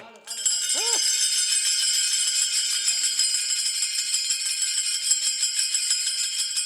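Taal hand cymbals ring out at a kirtan, a bright sustained metallic shimmer with a steady rapid jingle. A voice is briefly heard near the start.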